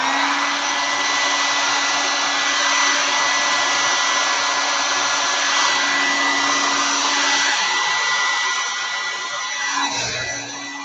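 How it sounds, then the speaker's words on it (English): A hair dryer blows thin acrylic paint across a canvas for a Dutch pour, a loud, steady whirring roar with a constant motor hum that shifts slightly near the end. "So warning again for the hair dryer, so the noise"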